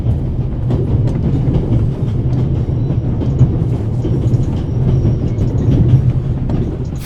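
A train rolls along the rails in the video game The Raven, a loud steady rumble with rhythmic clattering from the carriages, continuous and close, with no voices.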